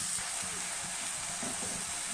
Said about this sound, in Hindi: ऑयल में अच्छे से हम इसको सौते कर लेंगे